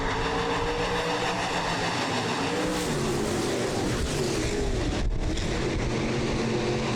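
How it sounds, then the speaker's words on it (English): USRA stock cars roar past in a heat race at a dirt speedway at night, a loud steady engine drone with rising and falling pitch as the field circles the track. "Second and final heat race here in our stock car class tonight."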